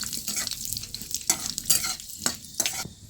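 Bay leaf, dried red chillies and fenugreek seeds hit hot oil for a Bengali bitter curry, giving an uneven crackling sizzle with scraping stirs and sharp bursts. It is close and moderately loud, with no talk.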